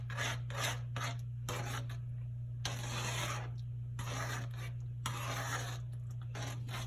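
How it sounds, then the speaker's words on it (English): A spoon stirring grits in a pot, rhythmic rasping scrapes with short pauses between strokes, heard close up over a steady low hum. "I'm just gonna continue to stir because I do not want these grits to come out"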